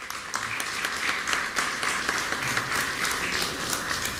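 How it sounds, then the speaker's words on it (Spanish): Audience clapping for a journalist speaker at a political book event, a steady, moderately loud round of applause from a seated crowd, with no talk over it. "Fuerte las palmas para él."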